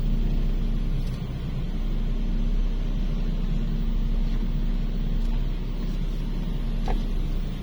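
Evening traffic jam on the streets of Manado near the New Bandar and Pasar 45 shopping area. Idling engines make a steady, close, low rumble with a constant hum and faint distant clicks, with no talking.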